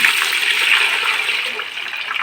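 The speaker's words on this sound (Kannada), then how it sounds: "ಇದಕ್ಕೆ ನಾನು ನೀರು ಹಾಕ್ತಾಯಿದ್ದೇನೆ" Water pours steadily into a cooking pan in a short continuous splash, close by, with no voices.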